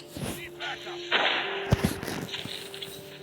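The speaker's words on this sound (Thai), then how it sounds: "ผมไม่ค่อยใช้ปืนเลยนะ แต่ด่านนี้ผมต้องใช้ปืนนะฮะ" Gunfire in a video game level, a few sharp bangs with one strong shot near the middle, set against a steady game soundtrack with other effects.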